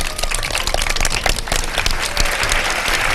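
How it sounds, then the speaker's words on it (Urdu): Studio audience on a Pakistani Ramadan iftar TV show breaks into sustained, dense applause, a steady wash of many hands clapping close and loud with no talk over it. "مائرہ کے لیے بہت ساری تالیاں"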